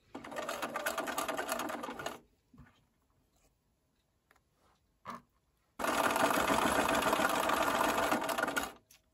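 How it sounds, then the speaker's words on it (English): Domestic sewing machine stitching a Y-seam on a LeMoyne Star quilt block: two steady, close whirring runs of stitching separated by a quiet pause with a few small handling clicks, no voices. "I'll sew right up to this pin. And then backstitch."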